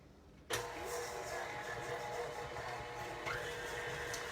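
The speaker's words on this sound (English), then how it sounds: "what we're going to do is just put our mixer on" An electric mixer switches on and runs steadily, beating a cheesecake batter of cream cheese, eggs and sugar; the whirring hum starts abruptly after a brief quiet moment and continues loud and close.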